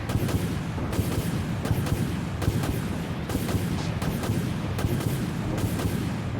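Warship combat in the video game Dreadnought fills the scene with heavy weapons fire and explosions: a dense, continuous barrage of booms and blasts, with sharper impacts recurring roughly every half second to second.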